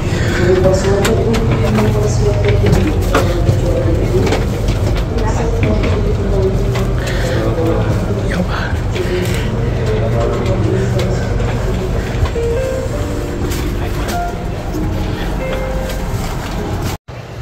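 A KA Brawijaya passenger train, an executive coach built in 1991, runs at speed with a steady, loud rumble and hum of wheels on rails, and a voice talks over it much of the time.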